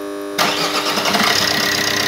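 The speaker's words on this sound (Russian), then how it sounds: "Запуск двигателя." A 2009 Opel Corsa D with a 1.3-litre Z13DTH diesel engine cranks briefly after a quiet moment, then catches and settles into a close, loud, rattling diesel idle.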